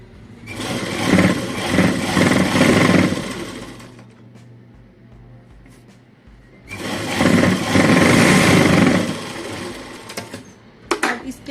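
Sewing machine stitching a blouse, running in two long steady bursts with a quiet pause between them, close and loud, followed by a few small clicks at the end.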